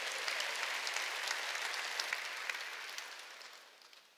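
A church congregation at a Sunday worship service claps together in a steady, fairly distant wash of applause that gradually fades away, with no voices over it.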